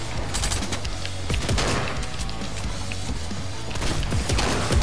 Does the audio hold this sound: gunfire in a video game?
yes